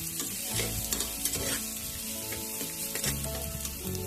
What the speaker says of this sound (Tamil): அது கூட 20 பல் பூண்டு இதை சேர்த்து நல்லா வணக்கிக்கலாம்